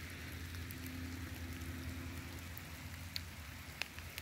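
Steady rain falls outdoors as a soft, constant hiss of patter, with a couple of brief drips or ticks near the end, quiet and without voices.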